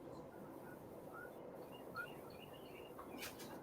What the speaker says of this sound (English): Hear that old bird outside a chirping.